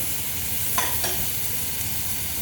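Onion and mushroom fry in butter in a pan, a steady low sizzle with two quick stirring scrapes near the middle, no voices.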